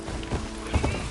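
A ridden mount in Horizon Forbidden West strikes a few quick, close hoofbeat-like footfalls in a short burst.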